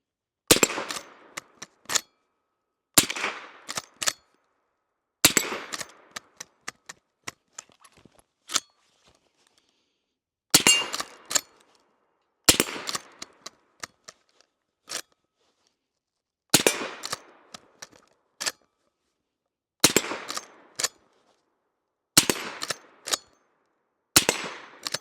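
Smith & Wesson Model 1854 lever-action rifle, the Stealth Hunter, firing repeated single shots in spaced groups: sharp loud cracks with short echoing tails, separated by gaps while the lever is cycled, with no voices.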